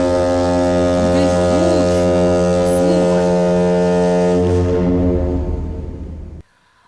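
A steamship horn sounds one long, loud, steady blast rich in deep tones and then cuts off sharply, leaving near silence.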